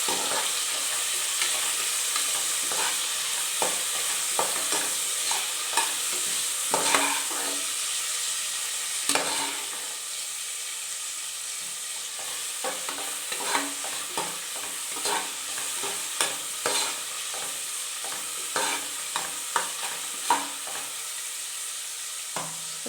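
Onions fry on a medium flame in a pan for mushroom biryani, a steady soft sizzle broken by repeated close scrapes and knocks of a stirring spoon at irregular intervals.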